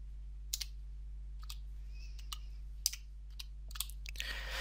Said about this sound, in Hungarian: Gépeljük be a parancsolba a tégl utasítást.